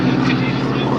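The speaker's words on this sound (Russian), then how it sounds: "где эти вертолеты?" Helicopters flying overhead during a visit to a military equipment museum, a loud steady rotor and engine roar that fills the whole moment.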